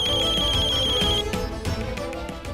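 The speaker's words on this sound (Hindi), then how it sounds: "रागिनी के बाबूजी ये मुझे क्यों फोन कर रहे हैं?" An incoming call rings on a mobile phone, a loud, steady electronic ringtone that plays continuously with a high sustained tone, then breaks into a busier tune.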